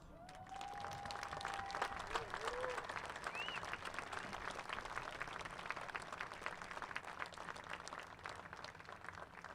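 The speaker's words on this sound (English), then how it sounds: "Let's hear for them with a big round of applause." Sustained applause from a crowd in the stands at a high school football game between Minot and Century, honoring military service members; steady dense clapping throughout with a few whistles and cheers over it.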